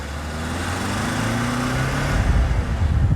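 Mercedes W211 E-Class sedan accelerating in manual mode on a bridge in light traffic, a smooth engine note rising in pitch through the gear, then growing louder and rougher near the end, heard from inside the car.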